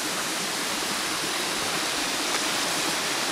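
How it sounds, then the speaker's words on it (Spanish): Small waterfall cascade at La Neverita in Montalbán, a steady, dense rush of falling water close by, continuous and even throughout with no voices. "les invitamos a que disfruten de esta cascadita llamada la neverita"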